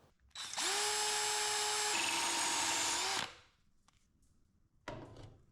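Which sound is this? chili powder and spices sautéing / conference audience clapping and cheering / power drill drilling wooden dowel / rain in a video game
power drill drilling wooden dowel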